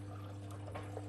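Water pouring and trickling inside a Hoover H-WASH 700 H7W6 washing machine on its final rinse, a steady soft flow over a constant low motor hum, heard close and quiet with no one talking.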